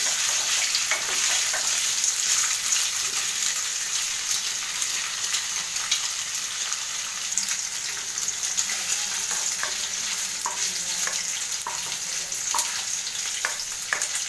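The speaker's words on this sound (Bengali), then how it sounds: "পনিরটা একটু হালকা আমি এটা ফ্রাই করে নেব, হালকা একেবারে শ্যালো ফ্রাই যেটা" Paneer shallow frying in hot oil, giving a steady, close sizzle with scattered crackles and pops throughout, no talk.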